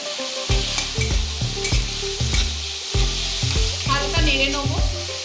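Three medium chopped onions hit a pan of hot oil with fried cumin, giving a loud steady sizzle broken by repeated scraping and stirring strokes of a utensil against the pan.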